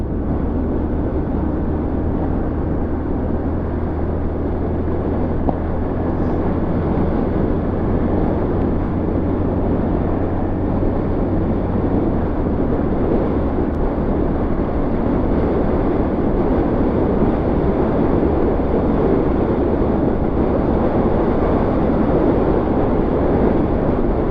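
A motorcycle rides fast along a straight mountain road toward Shandur Top in Pakistan, its engine droning steadily with heavy wind rush throughout, loud and continuous without speech.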